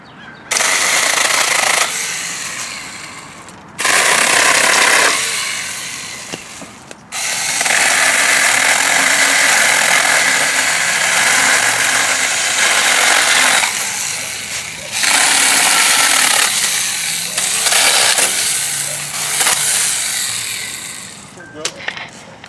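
A small handheld mini chainsaw cuts and trims in loud, close bursts of high buzzing motor noise, revving in several long runs separated by short pauses.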